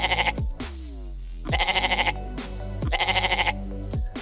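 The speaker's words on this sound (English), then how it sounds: "mia is simply an onomatopoeia describing the sound a goat makes" A goat bleats repeatedly in long, wavering, tonal cries, three loud close calls separated by brief gaps, with no other sound around them.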